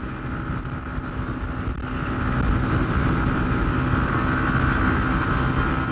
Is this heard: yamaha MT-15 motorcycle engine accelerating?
yes